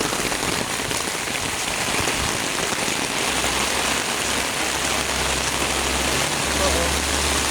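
A steady, loud downpour of heavy rain hisses without pause, with a low rumble like an idling engine creeping in underneath partway through.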